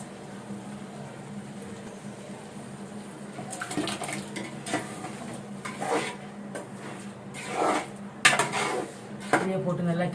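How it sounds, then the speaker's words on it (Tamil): Ground masala is stirred in a cooking pot for seppankizhangu (taro root) kara kuzhambu, with a spoon scraping and clinking against the metal. The strokes are intermittent and close, quiet at first and then louder with sharper knocks. "இதிலே போட்டு நல்லா கிளறி விடுங்க."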